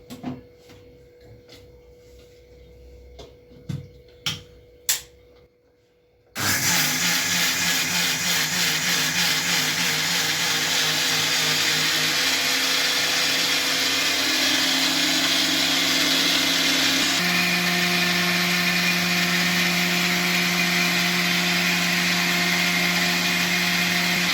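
After a few clicks and clatters, a motorized wet grinder grinding dosa batter starts up and runs steadily with a loud, continuous whirring drone that shifts tone once.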